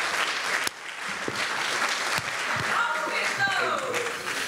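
Audience applause and cheering welcome a poet to the stage at a spoken-word poetry event, a steady dense wash of clapping lasting throughout, with voices calling out over it and a speaker's voice mixed in.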